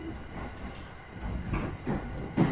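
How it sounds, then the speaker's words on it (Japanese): A Joban Line local train bound for Sendai rumbles steadily from inside the carriage, a low continuous running noise with soft rhythmic wheel thumps building slightly near the end. "本列車は常磐線下り普通列車の仙台行きです。"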